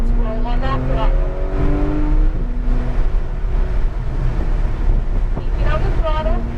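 A Porsche GT3 accelerating on the Hallett Racing Circuit, its engine tone rising and falling beneath heavy, continuous wind buffeting on the microphone.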